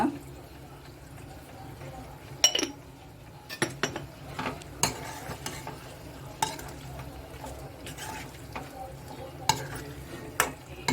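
Chicken ghee roast masala sizzles softly in a pan as a spoon stirs and scrapes, with sharp metallic clinks at irregular intervals and a person talking over it.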